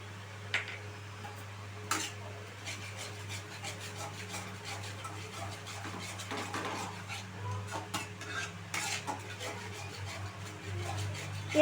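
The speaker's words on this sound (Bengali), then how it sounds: "এবারে আমি এই টক দইয়ের মিশ্রণটা আমি এখানে অ্যাড করে দিচ্ছি" Sour yogurt mixture goes into a pan of spiced, well-fried eggs for a badshahi egg curry, heard as soft scraping and clinking of a utensil against the pan over a low steady hum, with a few sharper knocks.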